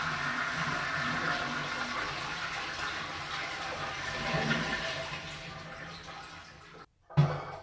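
Toilet being flushed during a bathroom demolition after the water valve is shut off, a loud sustained rushing swirl that fades, then a brief silence and a sharp clunk at the end.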